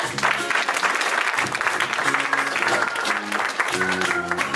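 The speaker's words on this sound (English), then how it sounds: "Another round of applause for the Minister of Finance" Audience applause at an investiture ceremony, continuous steady clapping from a seated crowd, with voices murmuring and talking faintly underneath throughout.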